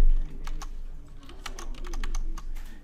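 A few quick bursts of typing on a computer keyboard, close clicking keys in uneven clusters over a soft background hum, without any talking.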